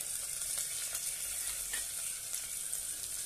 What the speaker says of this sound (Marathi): छानपैकी तेलामध्ये परतून घेऊया